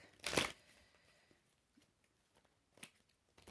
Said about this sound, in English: I think I'm going to shuffle one time because I keep dropping the deck.